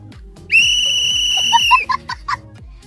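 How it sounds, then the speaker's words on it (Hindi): A security guard on night duty blows a whistle in a forest area: one long, loud, shrill blast followed by several short, sharp toots, close and alone. "एक बार सीटी मार लेता हूँ"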